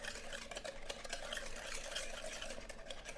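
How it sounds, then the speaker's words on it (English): Egg and sugar mixture whisked in a bowl, a faint, quick, continuous rhythmic clicking and swishing up close, with no voices. "we're now going to whisk our egg and sugar mixture here"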